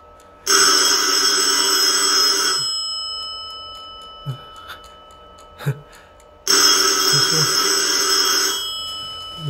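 A loud old-style telephone bell rings in two long bursts separated by a pause, with a few soft knocks in between.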